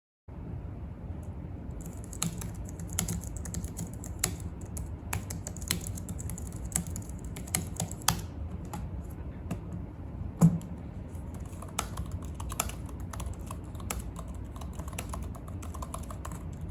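Steady typing on a Logitech low-profile keyboard, with soft, close, quiet key clicks in an uneven rhythm and an occasional sharper tap, with no voices.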